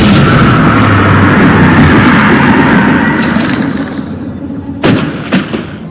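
Confringo blasting spells in the Hogwarts Legacy video game: heavy, rumbling explosions with bright hissing bursts layered over the top, then a sharper second blast and a few trailing thuds.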